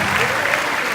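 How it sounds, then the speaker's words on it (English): An audience at a Scentsy Family Reunion event with Vinh Giang on stage claps loudly and evenly, a dense wash of applause filling the whole brief moment. "Give him a big round of applause, please."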